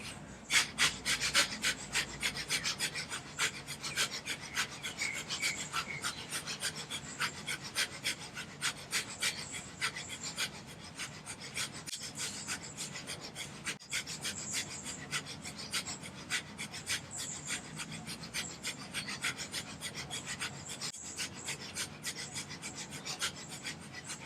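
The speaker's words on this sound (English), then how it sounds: "if you'd like to switch to the breath of fire, it's an option." Rapid rhythmic forceful breathing of breath of fire during a Kundalini yoga warm-up, a steady fast panting pulse of sharp nasal exhalations running continuously and fairly close.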